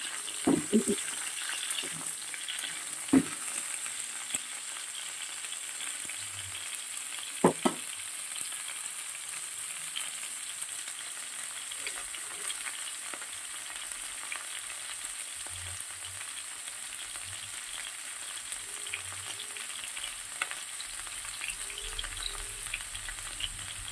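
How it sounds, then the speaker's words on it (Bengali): Cauliflower florets sizzle in hot oil in a home kitchen pan, a steady low frying hiss throughout with occasional clinks of a spatula and brief knocks, no one talking. "ফুলকপিটা আগে থেকে একটু ভেজে তুলে নেবো"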